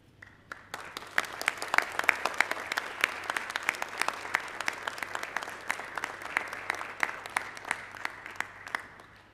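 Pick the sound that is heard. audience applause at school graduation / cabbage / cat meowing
audience applause at school graduation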